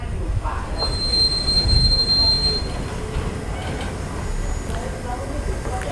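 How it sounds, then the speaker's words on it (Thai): Container freight train passing through a Thai railway station: loud, close rumble of rolling wagons with a high, sustained wheel squeal early on, and someone talking over it. "บวนรถสินค้าตู้คอนเทนเนอร์นะครับ"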